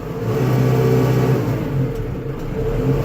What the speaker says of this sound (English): you can see that it's taking it up to 1900 RPMs